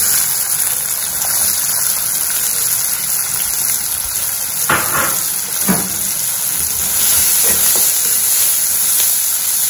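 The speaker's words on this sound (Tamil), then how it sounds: "இது எண்ணெய் காஞ்சிருக்கு, நான் நல்ல பொடியாக நறுக்கி வச்சிருக்க வெங்காயம்" Finely chopped onions are tempered in hot oil for gram flour (kadalai maavu) cutlets. A steady, fairly loud sizzling hiss runs throughout, with a few brief stirring scrapes and no talking.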